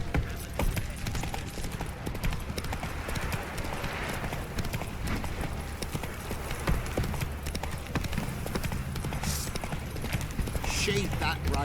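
Horse hooves gallop in The Witcher 3 video game, a fast, steady clip-clop rhythm running throughout under character dialogue and background game sounds.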